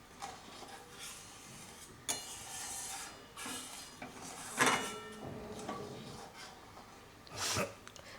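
Salt being stirred into simmering curry in a pan: intermittent scraping and clinking of a utensil against metal, with sharper knocks at a few points under quiet bubbling.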